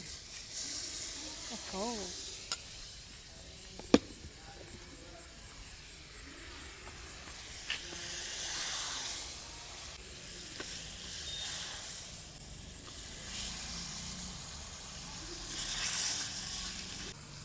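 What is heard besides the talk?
butter sizzling in a hot kadai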